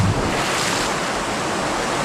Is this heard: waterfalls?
yes